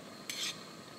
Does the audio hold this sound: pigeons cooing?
no